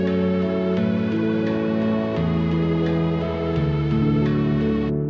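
Short FL Studio music loop: steady synth chords and a bass line that change every second or so under evenly ticking hi-hat-like percussion, loud and continuous, with no voices.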